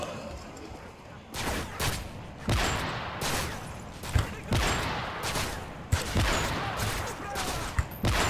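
Repeated sniper rifle shots in Call of Duty, loud sharp cracks landing roughly every second over a steady bed of battle noise, with a voice talking at times.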